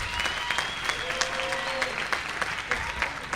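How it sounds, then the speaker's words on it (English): A university welcome-day audience applauds in a steady, full burst of clapping with a few voices mixed in. "Can we give Mr. Donovan Petlu a round of applause?"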